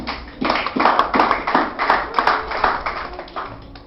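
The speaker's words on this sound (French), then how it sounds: "Applaudissez s'il vous plaît." A church congregation applauds, with dense, steady clapping from many hands for a few seconds that gradually thins out, under a faint voice.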